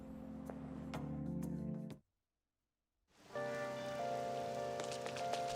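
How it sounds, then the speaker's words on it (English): Steady rain falls in the video game Persona 5, a constant hiss under soft game music that drops out briefly to silence before the rain and music return. "Feels so down when it's raining."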